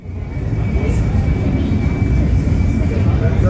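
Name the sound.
British Airways plane departing London City Airport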